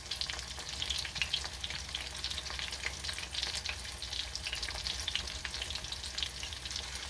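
Chicken cutlets shallow-frying in a skillet with just enough oil to cover the bottom, giving a steady bright sizzle and crackle that holds evenly from start to finish with no talk.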